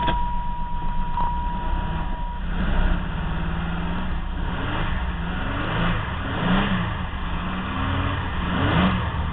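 A 1996 Pontiac Grand Prix SE engine runs steadily after starting, a close mid-pitched engine drone with a few light revs rising and falling over nearly ten seconds.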